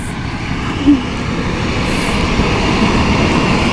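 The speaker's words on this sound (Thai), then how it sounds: "เสียงรถไฟ" A train passes on a railway line about fifty metres away, a continuous low rumble and steady rolling noise at moderate distance with no talk over it.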